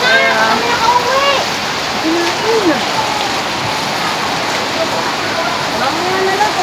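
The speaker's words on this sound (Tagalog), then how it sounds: "Inabot na kami ng ulan." Heavy rain pours down steadily outdoors, a dense continuous wash of falling water, with voices and some whooping or calling heard over it near the start and middle.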